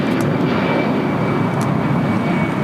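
Cayman Airways Boeing 737 MAX 8 taxiing at LAX, a steady, loud jet engine rumble and whine that holds without pause from start to finish, with no talk over it.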